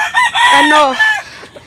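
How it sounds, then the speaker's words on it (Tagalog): A rooster crows loudly and close by on a farm with chickens, one drawn-out cock-a-doodle-doo followed by softer clucks. "Daming mga chickens. Hello mga chickens dyan."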